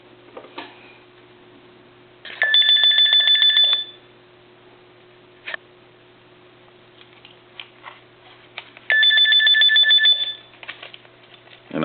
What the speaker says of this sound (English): We're going to go ahead and ring the telephone.